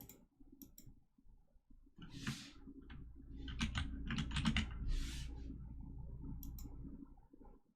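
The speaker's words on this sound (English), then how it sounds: "just type the whole time and let you guys listen to the keyboard?" Computer keyboard typing during live coding of a chat application, a steady run of close, crisp key clicks with a brief pause near the start and a low background hum underneath, no talking.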